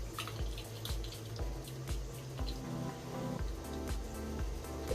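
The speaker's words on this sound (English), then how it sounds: "I'll just stick it in the corner and I'll pour the brine in." Hot pickling brine poured into a jar packed with cucumbers, a steady watery pour with gurgling and dripping close by, running continuously with no talking.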